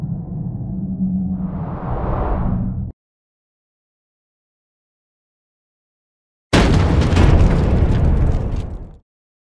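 Two heavy explosion effects, each a loud, broad booming burst with rumble, separated by a few seconds of total silence; the second is sharper and brighter at onset and fades out.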